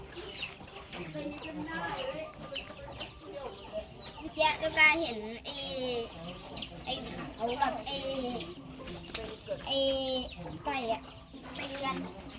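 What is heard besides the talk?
chickens and roosters clucking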